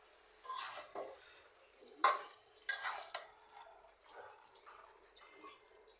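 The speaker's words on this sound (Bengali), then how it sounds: "এখন ভালোভাবে নেড়ে নিব, সবগুলো মাংস একসাথে মিশিয়ে নিব।" Duck meat being stirred in a cooking pot for a midday meal, with a few scraping, clattering metal-on-pot strokes and soft wet shuffling, moderately close and fairly quiet, no talking.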